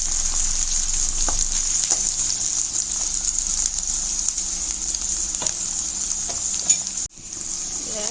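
Onions frying in a pan with ginger-garlic paste, a steady close sizzle running throughout, broken by a few soft utensil taps and a brief dip near the end before the hiss resumes.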